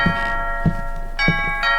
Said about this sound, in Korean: 아니 초인종 소리가 들리니까